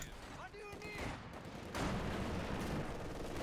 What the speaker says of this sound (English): the MP40s ripping through the Frontovics mercilessly